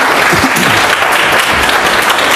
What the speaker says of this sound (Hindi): एक बार जोरदार ताली बजा दिए